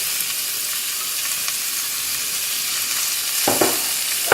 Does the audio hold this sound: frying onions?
yes